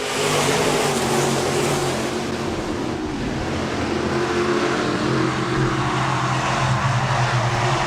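Iron Man B-Modified race cars on a speedway dirt track taking the green flag in a heat race, a dense, loud roar of many engines blending into a steady wash of noise.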